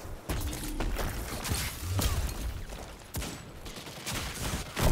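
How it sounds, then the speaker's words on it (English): Shotgun slug shots in Destiny 2 Trials, several heavy, punchy blasts spaced apart by a second or so, loud and close against a busy battle backdrop. "shotgun that guy in the head"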